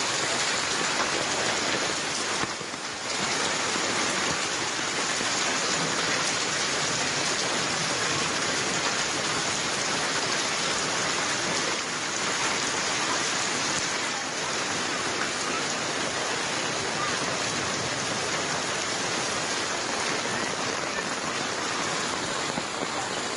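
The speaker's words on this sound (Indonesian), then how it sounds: "hujan deras disertai angin kencang melanda berbagai wilayah di Jakarta Selasa sore" Heavy rain with hail and strong wind lashes Jakarta, a dense, steady roar of downpour that stays loud and unbroken throughout.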